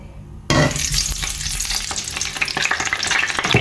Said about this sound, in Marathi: ऑयल हिंगा हांवें गरम करूंक दवरला आणि घालता हितून आमचे एग्स.